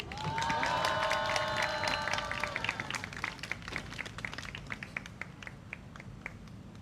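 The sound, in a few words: audience applause at a rally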